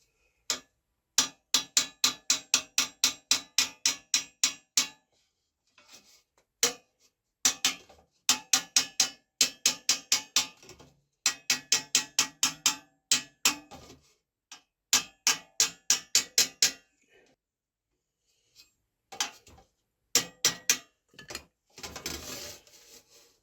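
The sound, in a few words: vinyl mallet tapping dents on brass over steel mandrel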